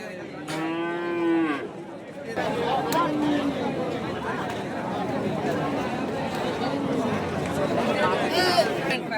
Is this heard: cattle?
yes